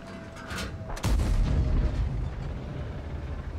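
The cannon of a 121 medium tank fires once in World of Tanks, a single loud, booming blast followed by a rumbling tail that lingers under the game's background noise.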